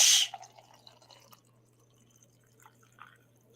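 Coffee pours from a French press, opening with a brief loud splash and settling into faint, sparse drips and trickles over a quiet low hum.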